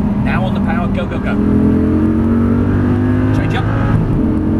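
An Audi R8 engine drones and climbs in pitch as it accelerates on the Silverstone race track, loud and close, with a voice talking over it.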